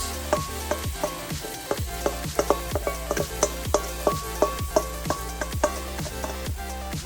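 Satay chicken fries in a pan as the rest of the sauce goes in. A steady close sizzle runs throughout, broken by frequent rhythmic taps and scrapes of a utensil stirring against the pan.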